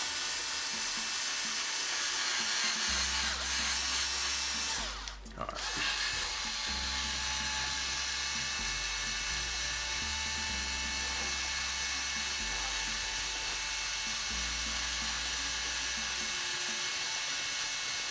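A drill whirs through holes being drilled and tapped for an Ender 3 Core XY conversion, giving a high buzzing whine in repeated short bursts, with a brief loud clatter midway.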